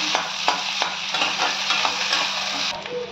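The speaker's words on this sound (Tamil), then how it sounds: "நல்லா வதங்கட்டும். கொஞ்சம் கலர் மாறட்டும்." Onions with curry leaves frying in a pan for mint chicken: a close, continuous sizzle with regular stirring scrapes and light clinks over a few seconds.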